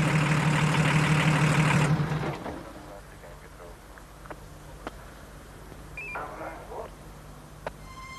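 An idling engine rumbles loudly for about two seconds and then cuts out, leaving a quiet scene with occasional faint clicks and brief voices.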